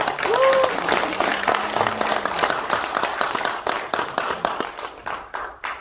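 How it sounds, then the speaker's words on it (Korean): Lecture audience gives a round of applause, steady clapping from a crowd in a hall lasting several seconds, growing more distinct toward the end. "박수 한번 드리고."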